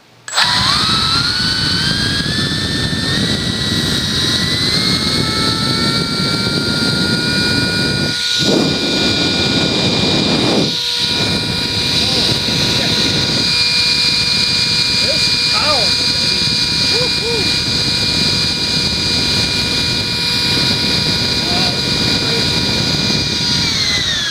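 Electric ducted fan RC jet spooling up and held at high throttle, a loud continuous whine with rising tones that settles into a steady roar, with brief dips near the middle.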